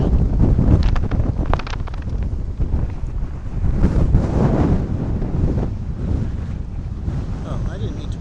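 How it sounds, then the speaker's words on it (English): Strong wind at an airport buffets the microphone in loud, continuous rumbling gusts, with low roaring blasts that swell and ease throughout. "which was windy, but not quite this windy"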